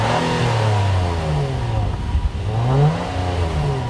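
A 2018 Acura TLX engine revving under hard acceleration from inside the cabin, a loud sustained drone rising in pitch through the gears with a brief dip as it shifts.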